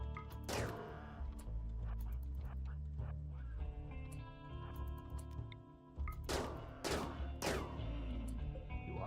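Gunfire in the Rimworld colony video game, with bursts of sharp shots and impact cracks over a droning musical soundtrack, fairly loud, some volleys clustered, others spaced out.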